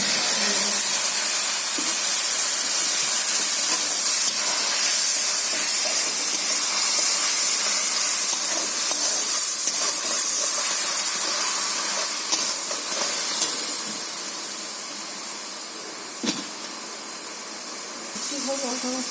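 A ground paste of ginger, garlic, green and ripe chilli, coriander, cumin, tomato and onion sizzles in hot oil in a wok. The loud, steady hiss runs unbroken and eases slightly toward the end.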